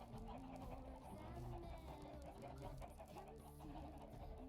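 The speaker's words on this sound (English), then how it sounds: "That's a lot of chickens." A flock of chickens in a Minecraft-style video game cluck in overlapping bursts, a steady busy chatter at low volume with no talking.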